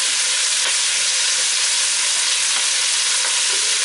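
Chicken and leeks frying hard in a pan, a loud, dense, unbroken sizzle and hiss right up close with faint stirring scrapes, no voices over it.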